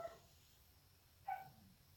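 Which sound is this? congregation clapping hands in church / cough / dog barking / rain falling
dog barking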